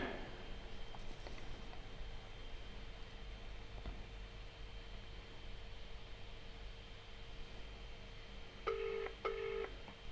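A mobile phone call is placed, with a pair of short dialing or ringback tones near the end rising over a steady background hum and hiss.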